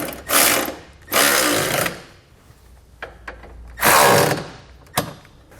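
Bolts of a Curt trailer hitch receiver on a 2020 Hyundai Kona are snugged down with an 11/16 socket on a power tool, with three loud whirring bursts and a few clanks and taps between them.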